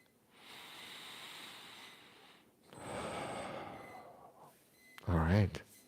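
Slow, deep breaths in and out during a morning breathing exercise, long airy exhales close to the microphone, ending in a brief voiced snort or grunt.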